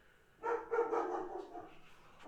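A dog barks indoors in a short burst of several loud, close barks that trail off, with no talking over them.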